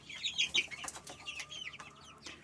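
Month-old chicks chirp close by in a heated brooder, giving a cluster of high, thin peeps and soft trills with no talking.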